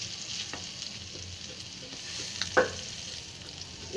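Masala-coated fish fries in a pan with a steady crackling sizzle, broken by a soft scrape and clack as the pieces are flipped, with no talking.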